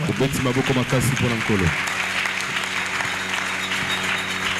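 A church congregation at a sermon breaks into loud applause and cheering, sustained clapping from many people; a voice speaks briefly over the start before the crowd noise carries on alone.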